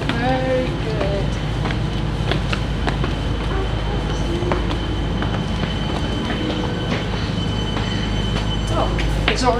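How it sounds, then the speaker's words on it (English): A train moving through a newly built suburban railway station, with steady loud rumble, clattering wheels and squealing rails throughout the clip. "Oh, it's already a train."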